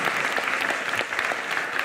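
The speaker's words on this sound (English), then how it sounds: "Samuel Ishimwe, please clap for him." An audience at a film talk applauds steadily, a dense wash of clapping from many hands at moderate level that holds evenly for the whole stretch with no talking over it.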